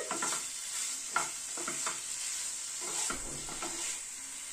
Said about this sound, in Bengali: চিকেনটাকে একটু ভাজা ভাজা করে নিচ্ছি।